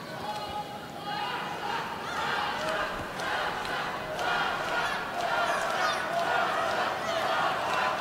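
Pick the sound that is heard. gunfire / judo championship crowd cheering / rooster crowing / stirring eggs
judo championship crowd cheering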